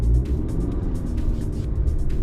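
A 2018 Honda Accord 2.0t on General G-MAX AS-05 tires pulls away in snow, engine rumbling low and steady, with faint crunching and road noise throughout, no voices.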